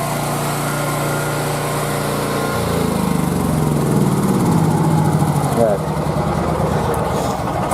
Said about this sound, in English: I have to start this generator, turn this thing off.